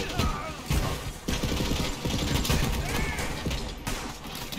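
Gunfire and explosive pops in Borderlands 3, dense overlapping bursts of shots and blasts running almost continuously, loud and busy with brief gaps.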